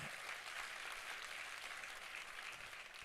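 A church congregation claps during a sermon, a brief, fairly faint burst of dense, even applause with no voices on top.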